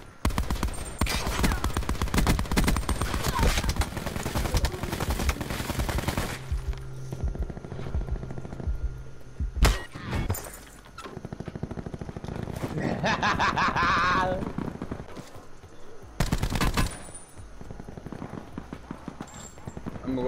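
Call of Duty Black Ops 4 Blackout gunfire, dense rapid automatic bursts at first, then scattered loud single shots and short volleys with gaps between.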